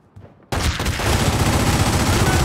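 Gunfire erupts in The Godfather video game, a sudden dense burst of rapid automatic shots that starts abruptly after a quiet moment and continues as a loud, sustained, near barrage.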